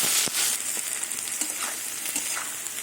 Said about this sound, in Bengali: এবার সব কিছু দিয়ে আবার কিছুক্ষণ ভেজে নেব।